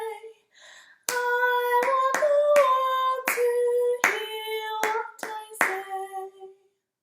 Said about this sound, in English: So that was a go at clapping and singing the melody and following it, okay?